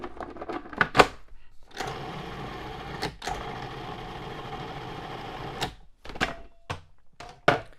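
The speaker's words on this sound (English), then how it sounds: "Just going to stir it a little bit and then pulse it a couple more times." A food processor pulsing chickpeas for homemade hummus, with several short, loud motor bursts and one longer whirring run, separated by clunks and brief pauses.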